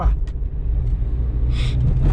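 A Chevrolet Chevette DL's engine drones loudly and steadily from inside the car as it overtakes, a low rumble with brief higher hiss and rattle near the end.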